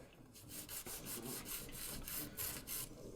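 A nail file rubbing back and forth across acrylic resin nails during removal: fast, rhythmic, close rasping strokes, about a dozen in quick succession.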